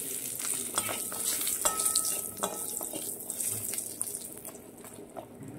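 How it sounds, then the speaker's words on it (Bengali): Bori lentil dumplings fry in shallow oil in a home kitchen, a steady crackling sizzle with occasional scraping and stirring clicks. No one speaks. "বড়িটা হালকা ভেজে নিয়ে তুলে নেব"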